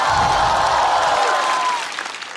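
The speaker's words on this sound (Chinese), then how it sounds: "这但凡在外边观众有这种欢呼和掌声" A stand-up comedy audience cheers and applauds in a loud, dense burst of clapping and whooping that holds steady, then fades off near the end.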